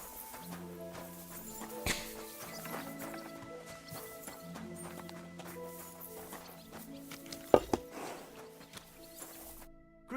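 Steady clip-clop of horse hooves walking at an even pace in the video game Kingdom Come: Deliverance II, set against layered background music with a brief crash near the end.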